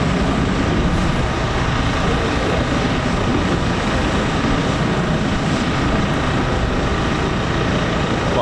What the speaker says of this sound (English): There's a vertical landing.